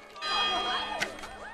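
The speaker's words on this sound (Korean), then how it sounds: "종이 울리자" A church-style bell rings in a stop-motion animated film, its sustained tonal strike swelling near the start and holding through the clip, with a brief sharper accent midway, fairly close and clear.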